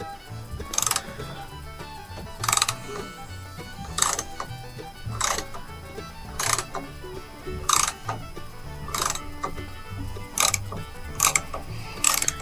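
A hand ratchet works the front pulley off a Corvair engine crankshaft, giving repeated bursts of sharp metallic clicking at a steady rhythm, close and fairly loud over a low background hum.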